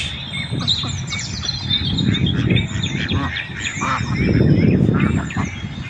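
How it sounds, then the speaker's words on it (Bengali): Ducks and ducklings on a pond at Aspire Park in Doha, Qatar, honking and calling repeatedly, with overlapping squawks and chirps close by against outdoor background noise. "দেখুন বন্ধুরা হাঁস, বিভিন্ন রঙের হাঁস, যে হাঁসের বাচ্চা, যে বাচ্চা হাঁস।"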